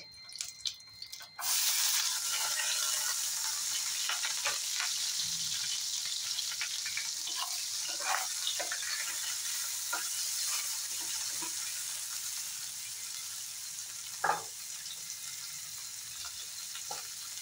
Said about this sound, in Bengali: এখন এখানেই দিয়ে দেব কেটে রাখা কাঁচা লঙ্কা, ক্যাপসিকাম, পেঁয়াজ।